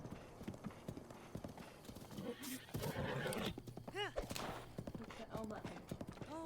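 Horse in Zelda: Breath of the Wild, with steady clip-clop hoofbeats throughout and a loud, clear whinny near the middle followed by snorting, all heard up close.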